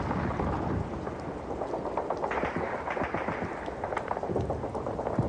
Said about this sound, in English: Yeah, so he's going to get hit with artillery.